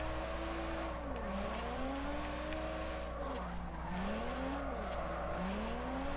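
A drifting car in Forza Horizon, engine revs rising and falling in repeated sweeps under steady tire squeal as the handbrake is tapped, continuous and close.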